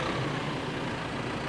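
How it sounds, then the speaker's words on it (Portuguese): A tractor engine runs steadily with a continuous low, heavy rumble and broadband roar, loud and close, with no talk over it. "Foi com o ronco do trator."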